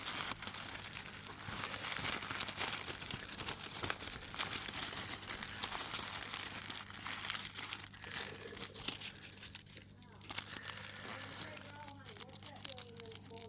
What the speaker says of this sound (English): Show you this unwrapping process.